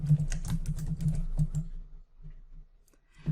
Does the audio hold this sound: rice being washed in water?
no